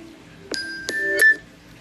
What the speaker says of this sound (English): Y'all, that's my alarm.